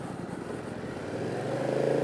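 A BMW F 900 R motorcycle engine runs steadily on a ride in Mumbai, a raucous parallel-twin drone that builds slightly in loudness toward the end, heard close and alone.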